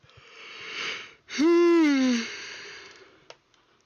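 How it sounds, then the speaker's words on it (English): A single close, loud human yawn, with a breathy intake followed by a drawn-out voiced sigh that falls in pitch and then trails off. "And now I've yawned again, so I need to update it once more."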